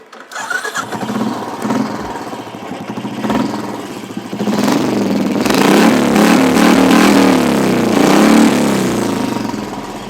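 A motorcycle fitted with a short bottle-style exhaust cranks and starts, idles with a few blips, then revs up into a loud, sustained roar close to the listener.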